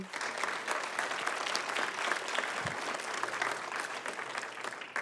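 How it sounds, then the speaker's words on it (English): Sustained applause from a large audience at a community benefits summit, a dense, even wash of clapping lasting throughout without pause. "Can we give them a big round of applause?"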